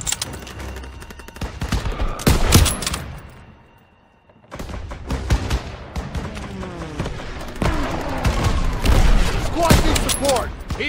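Dense automatic and rifle gunfire rattles through a Call of Duty: WWII battle, loud and nearly continuous, with bursts and booms, a brief lull near the middle, then heavy firing resumes over in-game shouting.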